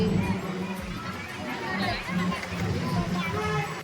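Crowd noise at a Durga festival gathering, with busy overlapping chatter, some children's voices and general movement, a constant close hubbub throughout.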